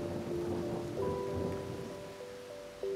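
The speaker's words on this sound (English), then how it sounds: "This rain of today is really out of the ordinary" Heavy rain falling steadily with low rumbling thunder, a dense continuous wash that holds even throughout, with faint tonal sounds drifting above it.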